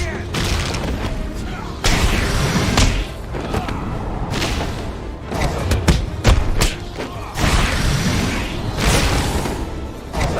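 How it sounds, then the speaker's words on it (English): Batman lands punches in Batman: Arkham Asylum combat, a rapid series of heavy, booming thuds that crack like gunshots amid busy game noise, with a voice talking over the fight. "literally his punches sound like freaking gunshots."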